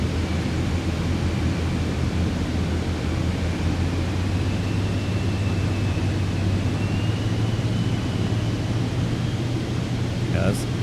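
Airplane engine in Microsoft Flight Simulator 2020 on approach to Philadelphia with gear and flaps down: a steady loud drone whose deep hum grows slightly stronger partway through as power comes up, continuous and close.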